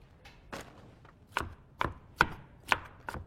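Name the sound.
knife rough-chopping drained canned vegetables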